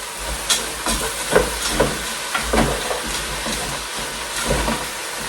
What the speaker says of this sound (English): I'll leave those to fry a bit.